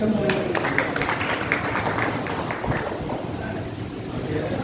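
A crowd of seminar attendees claps together in dense, steady applause at a money-formula income talk, a sustained wash of hand claps that stays fairly loud for the whole stretch, with a faint murmur of voices beneath.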